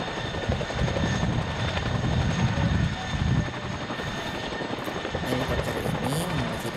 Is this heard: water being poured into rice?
no